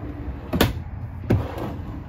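Storage drawers in a 2022 Keystone Outback 291UBH bunkhouse travel trailer, two close, sharp sliding knocks as the drawers are pulled open, spaced under a second apart against quiet room tone.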